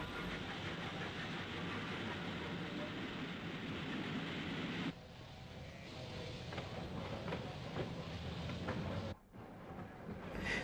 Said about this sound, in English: The loco shunts bread containers at the Market Yard before heading back up the 1-71 gradient to the main line.